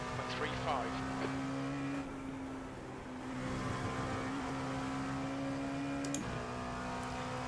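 LMP2 prototype race car at Canadian Tire Motorsports Park, a steady engine drone held at a constant pitch from an onboard position, dipping briefly mid-clip and then rising again, with a short click near the end.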